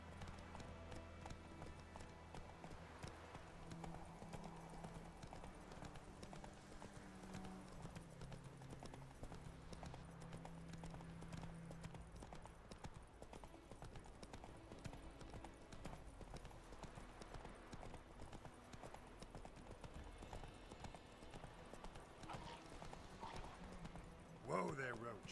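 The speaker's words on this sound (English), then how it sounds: "Whoa there, Roach!" Horse hooves clip-clopping in The Witcher 3 as a rider reins in the horse, a steady trotting rhythm under continuous game speech and background sound, moderately faint.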